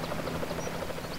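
A steady, buzzing rotor drone from a helicopter in the video game GTA San Andreas, holding at an even, moderate level as the aircraft flies itself away.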